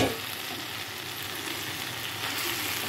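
Tomato curry frying in a pan sizzles steadily while a spoon stirs it, scraping and bubbling sounds close up over an even hiss, no speech.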